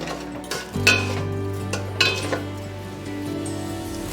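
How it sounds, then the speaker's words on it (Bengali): A spice mix with sugar and turmeric is stir-fried in a pot: a metal spoon scrapes and clinks against the pot in several distinct knocks over a low, steady sizzle. "দিয়ে দিচ্ছি স্বাদ মতো চিনি, দিচ্ছি হলুদ গুঁড়ো 1 চামচ মতো, দিয়ে মশলাটাকে ভালো করে কষাবো।"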